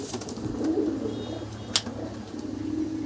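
A red jiriya pigeon coos softly nearby in low, murmuring notes, with a brief rustle or flutter partway through.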